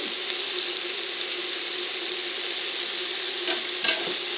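Vegetables for a vegetable curry being stirred in a pan over heat: a steady, close sizzle of frying runs throughout, with soft scrapes and shuffles from the stirring and no talking.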